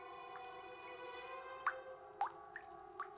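Water drains in the Nancy Drew: Ghost Dogs of Moon Lake video game, heard as scattered soft drips and plops over a steady low hum.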